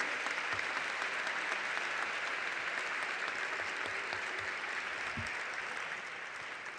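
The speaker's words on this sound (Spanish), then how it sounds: "de nuevo un aplauso a ellos dos y a todos ustedes" Sustained applause from an audience at a school's twentieth-anniversary academic ceremony, a dense even roar of clapping heard from a distance in a hall, tapering off near the end.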